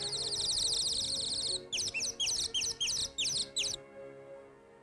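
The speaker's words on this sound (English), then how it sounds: "Oh, listen! A nightingale!" A nightingale sings nearby: a sustained bright trill followed by a rapid series of separate repeated chirping phrases, then silence, over a faint low background hum.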